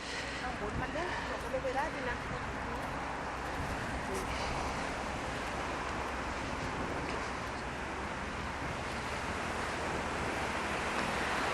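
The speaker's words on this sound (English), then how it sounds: "we've just decided to stop the beach just before Sarasin Bridge. I think this is Mai Khao beach." Waves roll onto Mai Khao beach in Phuket as a constant, broad wash of surf, with wind buffeting the microphone throughout and no clear breaks between the breakers.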